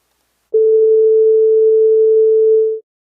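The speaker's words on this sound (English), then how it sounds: "this is 440 hertz on my x-axis" A single pure, steady 440 Hz sine wave tone sounds for about two seconds, starting and stopping abruptly, with silence on either side.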